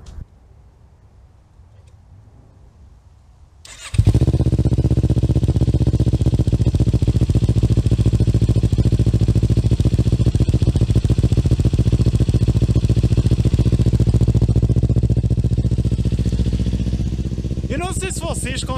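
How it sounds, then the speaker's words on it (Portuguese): Kawasaki Ninja 400 motorcycle with an aftermarket exhaust cold starts after a few quiet seconds, then settles into a loud, steady, close-up idle that keeps going to the end. "aqui vai um cold start numa Ninja 400"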